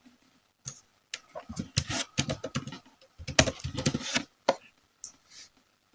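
Rapid keystrokes on a computer keyboard as a word is typed into a search box, close and crisp, in two dense bursts separated by a short pause, then a few final taps.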